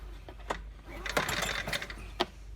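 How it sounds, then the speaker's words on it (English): Starter rope on a 2.6 HP outboard motor pulled a few times by hand, giving close, rasping bursts of the recoil mechanism with brief pauses between pulls. "then you just want to pull the rope a couple of times just to prime it"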